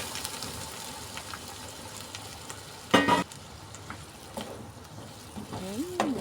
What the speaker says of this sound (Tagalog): Sunod naman natin ilagay ang ating napakuluang monggo.